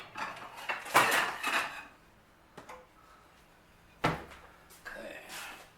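Browned steak is lifted from a skillet onto a plate with a few sharp metallic clinks and clatters of utensils and dishware, separated by quiet pauses.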